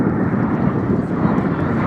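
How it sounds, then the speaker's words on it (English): A vintage Folland Gnat jet, a type first flown in 1955, flies in a formation air display at Culdrose, a steady loud roaring rush with wind noise and no break. "Now the Gnat first flew in 1955, so it's quite a vintage jet"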